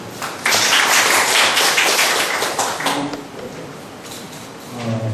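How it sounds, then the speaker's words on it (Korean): Brief applause welcoming a speaker at a church law society seminar, a burst of clapping that fades within a few seconds, followed by quieter room noise and faint voices. "박수로 환영해 주시기 바랍니다"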